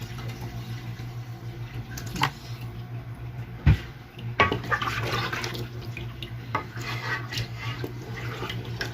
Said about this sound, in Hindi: अब मैं इसके अंदर तकरीबन 10-11 गिलास पानी डालूंगी